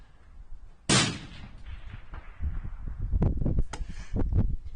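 A single loud rifle shot cracks at an outdoor shooting range with targets at 300 yards, its sharp onset trailing into a long rolling echo, followed by softer scattered knocks and handling noises nearby.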